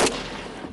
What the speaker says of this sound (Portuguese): os militares fazem disparos que rompem a escuridão, os chamados tiros traçantes